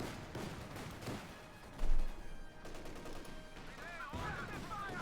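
An anti-tank gun fires in Company of Heroes 2 amid a busy battle, one heavy boom standing out over ongoing gunfire and explosions, with a caster talking over the action.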